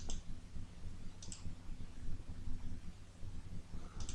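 Mouse clicks on a computer in CAD drafting software, three brief sharp clicks spaced apart over a steady low background hum.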